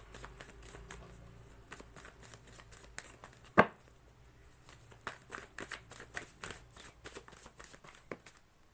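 Tarot cards are shuffled and handled up close, giving soft papery riffles and light flicking taps with one sharp snap partway through, all quiet and without speech.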